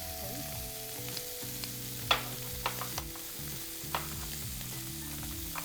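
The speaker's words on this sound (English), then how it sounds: "I'm going to add in a knob of butter" A knob of homemade butter sizzling in a pan with seared scallops, a steady close crackle with a few sharp pops and light clinks of a utensil, over faint background hum.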